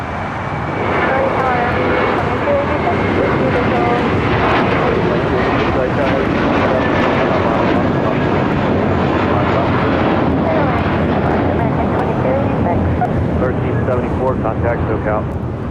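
A United airliner takes off from runway 25 at LAX, a loud, steady jet engine roar with wind buffeting that holds for the whole stretch, with radio voices running beneath it.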